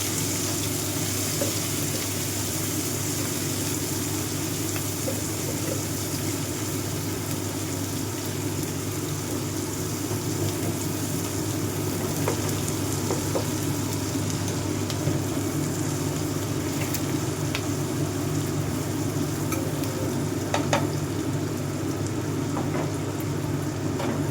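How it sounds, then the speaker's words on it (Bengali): Chopped onions lightly frying and being stirred in a pan, a steady dense sizzle over a constant low hum, with occasional faint clicks and no talk. "একটু নাড়াচাড়া করবো বেশি ভাজবো না"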